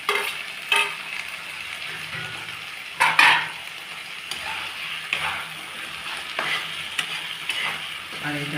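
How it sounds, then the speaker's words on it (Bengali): Chopped tomatoes sizzle and hiss in a frying pan for masala egg curry, a continuous frying crackle broken by several louder stirring scrapes and spatula knocks. "আমি এবার এতে টমেটো কুচোনোগুলো দিয়ে দিচ্ছি"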